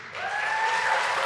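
Brief burst of audience applause at a community media awards ceremony, clapping swelling quickly from a quiet start into a steady, fairly close wash with a faint tonal ring behind it.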